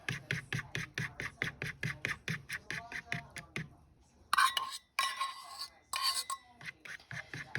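Egg is whisked into cold milk in a bowl for rice pudding: quick, regular clinking strokes of the whisk, a short pause, then scraping clatter before the rhythmic beating resumes.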